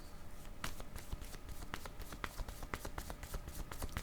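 Tarot cards shuffled and drawn by hand, a steady run of crisp riffling flicks and soft slaps close up, with no voices over them.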